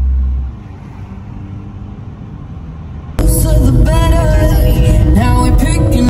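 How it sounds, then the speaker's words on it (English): Inside an automatic car wash, a low vehicle rumble holds quietly for a few seconds, then a loud broadband rush of spraying and scrubbing cuts in abruptly and continues steadily to the end. "We're at the car wash."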